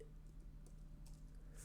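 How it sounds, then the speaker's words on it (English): Quiet keystrokes tap on a computer keyboard in a short, irregular burst, faint and close with no voices. "Just typing."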